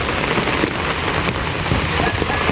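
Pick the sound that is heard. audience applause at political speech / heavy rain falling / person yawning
heavy rain falling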